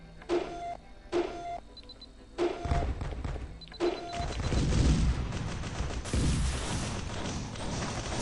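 Guns placed in Risk of Rain open fire in a string of sharp repeated shots, first spaced bursts with a thudding low end, then building into a dense, continuous barrage of game combat noise.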